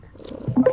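A cat purring in the VR game I Am Cat, set in a garage: a short, close rumbling purr that swells toward the end, with a couple of brief higher tonal chirps.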